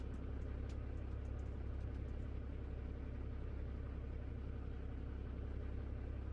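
A truck engine idles in the American Truck Simulator video game, a steady low rumble that holds evenly throughout, fairly quiet, with faint music-like tones drifting above it early on.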